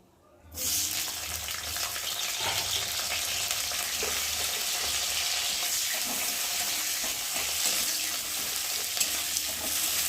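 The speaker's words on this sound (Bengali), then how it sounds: "তেজপাতাটা একটু ভাজা ভাজা হয়ে গেলে এবার দিয়ে দেবো একটা পেঁয়াজ কুচি।" Chopped onion and bay leaf fry in hot oil in a home kitchen: a loud, continuous sizzle begins abruptly after a quiet half-second and holds steady, with faint clinks of stirring.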